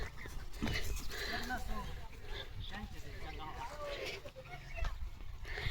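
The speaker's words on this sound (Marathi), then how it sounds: "भुंकायला लागलाय. त्याला दिसलेत दुसरं डॉग." A German Shepherd on a walk barks at other dogs nearby, with panting and whimpering mixed among the barks while people talk over it outdoors.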